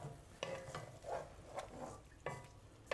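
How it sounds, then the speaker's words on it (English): Braised pork ribs with radish and carrots are stirred in a pot, a spoon scraping and clinking softly a few times over a quiet simmering bubble, close and faint. "Yes, give it a little stir."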